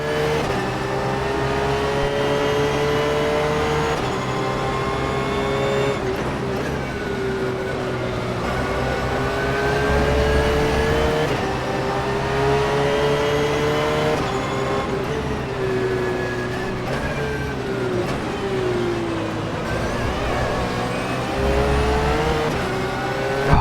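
A Porsche 911 GT3 R race car engine in rFactor 2 at Imola drones steadily, its pitch rising through each gear and dropping at the shifts, with no talk over it.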